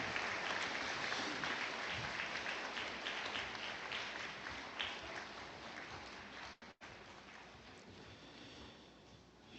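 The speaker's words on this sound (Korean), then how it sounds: "다시 한번 감사의 박수 부탁드리겠습니다." Congregation applause at a church vigil prayer service, a wide, fairly distant wash of clapping that stays steady for most of its length, dips briefly and then picks back up.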